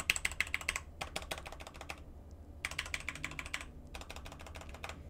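Typing on a Red Dragon K617 Fizz keyboard, including the shift keys: two quick bursts of crisp, close clicking separated by a short pause, with a faint low hum underneath.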